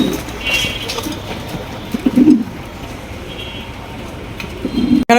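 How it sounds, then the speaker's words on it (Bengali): A pair of Andalusian show pigeons give soft, low coos in a few short bursts, with faint higher chirps from other birds in the loft behind them. "রয়েছে আরও একজোড়া শোকিং কবুতর অ্যান্দোলজিয়ান শৌকিং কবুতর"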